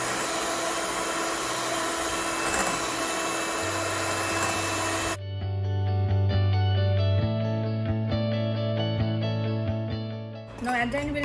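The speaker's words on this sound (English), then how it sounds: "continue beating the eggs with it" An electric mixer beating eggs as granulated sugar is gradually added for a sponge cake, a steady loud whirring drone that changes pitch partway through, with brief clanks and noisy bursts at the start and end.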